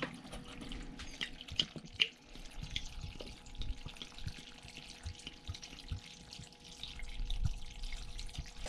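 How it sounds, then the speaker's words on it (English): Cheap sherry poured into a container, a soft continuous liquid trickle and splash with small drips, close by and fairly quiet against faint background noise. "I've just bought the cheapest sherry that I could get here in Cal, and I'm just going to put that in the container."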